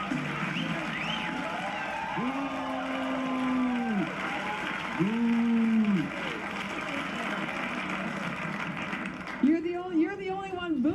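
A person imitates a cow, giving two long, low moos followed by a third shorter one, close and loud, with other voices murmuring around them.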